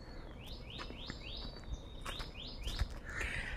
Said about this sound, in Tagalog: Ang huni ng mga ibon.